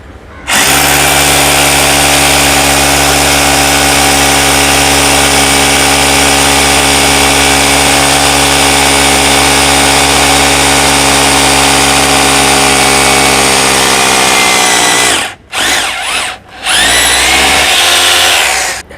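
A Chesten rotary hammer drill bores into stone with a loud, steady, droning whine that runs continuously at close range, then cuts out briefly twice before starting again near the end.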